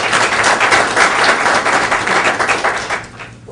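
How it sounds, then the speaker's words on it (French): Steady applause from an audience at the official launch event of a Côte d'Ivoire diaspora organization in the USA, dense and loud clapping that stays even for several seconds before tapering off. "représenté par le président Léon Sadiko, que j'aimerais qu'on applaudisse très fort,"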